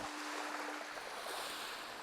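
Steady broadband ocean surf rolls along a rocky shore on Grand Manan island in foggy weather, a continuous rushing wash with no voices, fairly distant and even in level.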